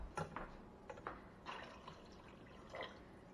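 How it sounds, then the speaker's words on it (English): Water added a little at a time into a pot of simmering vegan stew with bay leaves, heard as a few faint, separate splashes and trickles against a quiet kitchen background. "I'm going to add a little bit more water"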